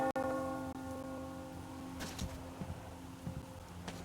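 A bell tolls in the game Metro Exodus, a deep sustained ringing that decays slowly, followed by faint scattered clanks and movement sounds in the background.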